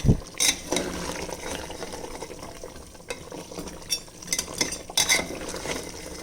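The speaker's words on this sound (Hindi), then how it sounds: "अच्छे से एक बार और मिक्सिंग कर दिए।" Paya masala of goat trotters gets mixed in a pot, giving a few scattered scraping and clinking knocks of a spoon against metal over a steady low kitchen background.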